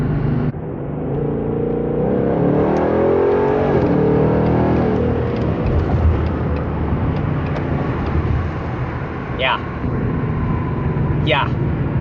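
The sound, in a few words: Ford Mustang GT engine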